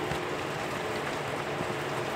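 Steady rain falls in a continuous, even wash of hiss and patter with no breaks, moderately close, and no voices over it.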